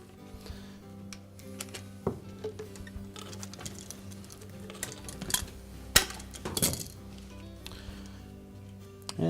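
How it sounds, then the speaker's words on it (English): Metal hose clamps being moved from an old to a new tub-to-pump hose while repairing a Maytag washer: scattered light metallic clinks and clicks, with a few sharper snaps and rattles, close by and without talk. "Then we're going to transfer the 2 clamps from the old hose"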